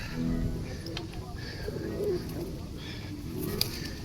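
Soft, low pigeon coos come and go beneath steady outdoor background noise in Nice, France, with a few faint clicks scattered through.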